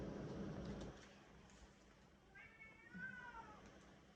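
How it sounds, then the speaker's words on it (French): A cat meows a few times near a Christmas tree indoors, its rising and falling calls fairly soft over a low background hum, with a brief murmur of voice early on. "Elle est en train de miauler après le sapin."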